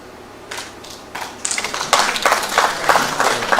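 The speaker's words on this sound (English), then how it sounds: "I see that the clap is not big." Sparse audience clapping at a community health partners' retreat, a few scattered claps at first that build into a modest, uneven round of applause from a small crowd.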